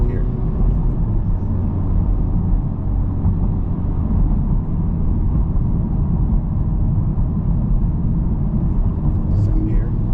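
A Honda Type R car engine pulls hard, heard from inside the cabin on a ramp as a steady, loud, continuous drone and rumble with no clear gaps.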